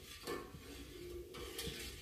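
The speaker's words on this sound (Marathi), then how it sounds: "हे बघा, अशा प्रकारे सातत्याने हलवत राहायचं" A spoon stirs milk in a pot on the stove for paneer, scraping and clinking softly against the metal in an uneven rhythm. The sound is faint and close, with no voices.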